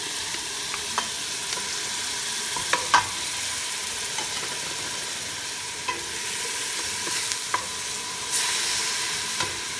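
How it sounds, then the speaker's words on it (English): Garlic added to onions frying in a pan for pork pochero, a steady close sizzle and hiss throughout with occasional light clicks of a utensil stirring, no talk. "Let's put our garlic."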